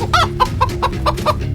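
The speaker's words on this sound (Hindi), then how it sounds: "क्या वो मुर्गी की आवाज है?" A hen clucks on a campus in a quick, regular series of short, close clucks, about six in under two seconds, with no other sounds over them.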